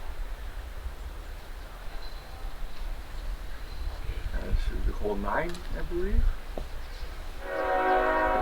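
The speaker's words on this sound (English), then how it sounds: "Trains going by about every 45 minutes or so." A passing train sounds a long, loud horn beside a disc golf course, its low rumble building under a voice and a few bird calls before the steady horn blast swells at the end.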